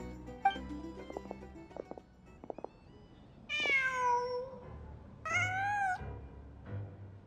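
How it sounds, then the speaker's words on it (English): A cat meows twice in the video game Genshin Impact. Each call is drawn out and clear, with soft scattered clicks and faint ambient sound before and between them. "Huh. Just a cat."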